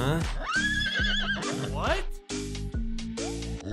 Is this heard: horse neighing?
yes